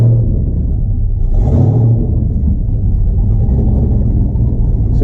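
A Nissan 300ZX with a swapped LS V8 engine cruising on the street, its steady low rumble and drone filling the cabin with a brief rise in revs partway through.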